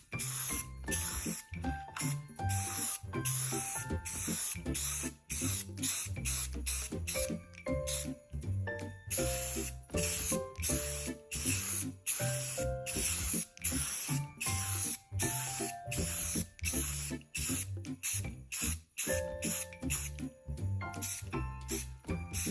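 Rust-Oleum gloss black spray paint hisses out of the can in repeated short bursts with brief gaps between them, close and fairly quiet, and faint music plays in the background.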